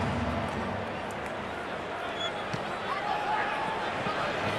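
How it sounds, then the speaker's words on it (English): Stadium crowd at an NRL rugby league match between South Sydney Rabbitohs and Manly-Warringah Sea Eagles, a broad continuous roar of many voices that holds steady and fairly loud, with babble and scattered shouts throughout. "The crowd is so loud."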